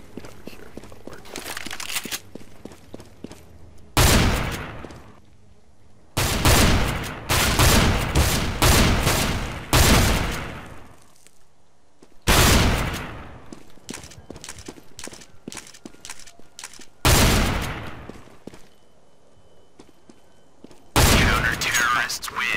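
Loud, repeated shotgun blasts from a CS:GO match fire in separate bursts, each a sharp broadband crack with a short decaying tail, spaced a few seconds apart between quieter stretches of footsteps and movement.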